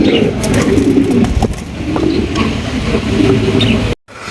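Fancy racer pigeons coo in low repeated throaty calls close by, with a bit of background rustle and a brief dropout near the end.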